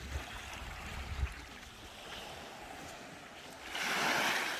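Sea waves wash onto a mixed stony and sandy shore by a limestone cove, a soft continuous surf wash that swells louder toward the end, with wind, moderately distant and without speech.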